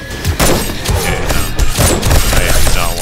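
Rapid gunfire pours into a demolisher zombie during a 7 Days to Die horde night, with dense bursts of shots and heavy thuds that stay loud through a chaotic mix of game noise.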